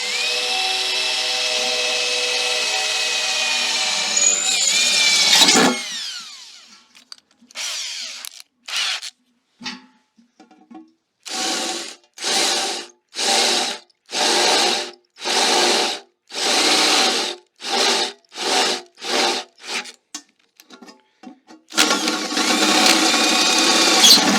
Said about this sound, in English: I'm just going to drill the biggest hole I can